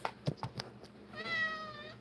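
A few soft thumps and knocks come first, then a cat lets out one clear, drawn-out meow close by in a quiet indoor room.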